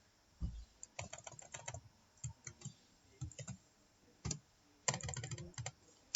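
Code being typed on a computer keyboard, with irregular bursts of close, light key clicks and taps, some faster runs and pauses between, and no talking.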